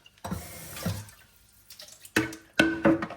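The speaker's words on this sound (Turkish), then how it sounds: "Ben bunu hemen sirkede suyla yıkarım." Food being rinsed under running tap water with vinegar in a kitchen sink, water splashing in bursts that start, pause and resume, close and fairly loud.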